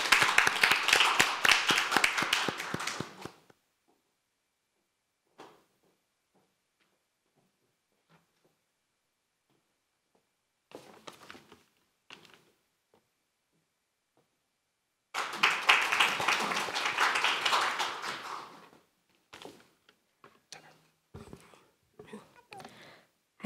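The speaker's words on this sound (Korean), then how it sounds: "박지아 참가자의 연설을 박수로 들어보겠습니다" Audience applause at a youth speech contest final, with a burst of dense clapping at the start and another burst midway, separated by near silence and scattered speech.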